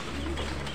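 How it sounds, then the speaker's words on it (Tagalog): Racing pigeons in a loft give a brief, close murmur of cooing and soft calls over a steady background hum. "Yan yung mga ibon."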